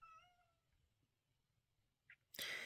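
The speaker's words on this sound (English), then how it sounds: "And my cat says he needs an evening snack." A house cat gives a short, faint meow at the start, asking for an evening snack in a quiet room, followed by a brief squeak and then a sudden loud rustling burst.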